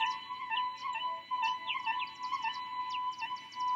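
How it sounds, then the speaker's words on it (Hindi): Birds chirp and sing in quick, bright bursts, a soft, steady stream of calls at a distance, with a faint constant tone underneath and no voices. "उन पक्षियों की आवाज को सुनिए और महसूस करिए।"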